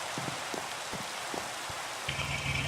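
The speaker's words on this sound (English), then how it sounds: "it's raining" Rain falls in the Minecraft-style video game world as a steady soft hiss, with a few faint thumping footsteps and a brief chime near the end, no voices.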